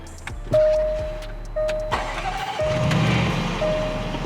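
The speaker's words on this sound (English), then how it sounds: "Let's go ahead and start this thing up and hear the rumble." A car engine turns over and fires up, settling into a deep, steady rumble nearby, with a few chimes and clicks from inside the cabin.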